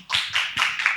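Audience members clap in short bursts at a residents meeting, about four loose claps in quick succession, close and moderately loud, with no talk over them.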